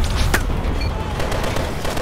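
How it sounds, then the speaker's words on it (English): A grenade blast and rapid gunfire in the Call of Duty: Advanced Warfare campaign, a loud dense burst of booms and shots filling the whole short stretch, with a brief sharp crack near the start. "Grenade out!"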